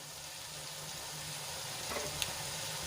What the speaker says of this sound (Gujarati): ડુંગળીને સરસ રીતે તેલમાં મિક્સ કરીને આપણે એને થોડી વાર માટે સંતળાવા દઈશું